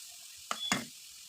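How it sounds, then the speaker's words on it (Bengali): Grated carrot and papaya stirred in a pan for halwa, two quick scraping strokes over a faint soft sizzle, otherwise quiet. "গ্রেট করা গাজর আর গ্রেট করা পেঁপেটাকে দিয়ে আমি ভালো করে নেড়ে নেবো যতক্ষণ না এর জল শুকিয়ে আসছে"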